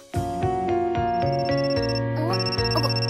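A phone ringtone plays in the video game Amnesia: a bright repeating melodic tone, rhythmic pulses sounding clearly and alone, with a slightly changing pattern toward the end.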